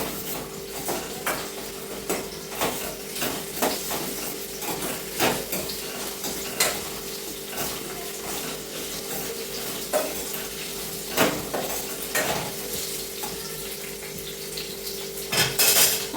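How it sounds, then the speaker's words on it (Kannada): Onions frying in ghee in a pan over low heat, a steady soft sizzle with frequent clinks and scrapes of a spoon stirring against the pan, close and moderately quiet throughout. "ಚೆನ್ನಾಗಿ ಹುರಿಬೇಕು, ಸ್ವಲ್ಪ ಕೆಂಪಗಾಗಬೇಕು ಈರುಳ್ಳಿ."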